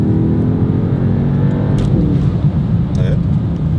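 Mercedes S63 AMG, a nearly three-tonne luxury sedan with 1430 Nm, accelerating in manual mode in third gear; a loud, steady engine roar with harmonic rise throughout, with voices talking over it.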